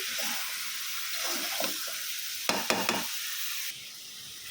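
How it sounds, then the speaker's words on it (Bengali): Sliced bottle gourd goes into a pan of sizzling sautéed spices, giving a steady close hiss with stirring scrapes and a few sharp clatters, before the sizzle quiets and settles toward the end. "মশলাটা কষানো হয়ে গেছে এখন লাউটা দিয়ে দিব"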